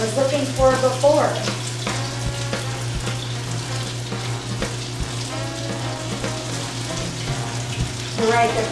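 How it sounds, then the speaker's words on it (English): Potato latkes fry in oil in a pan with a constant close sizzle and crackle. Speech comes and goes over it. "There's the sizzle I was looking for before."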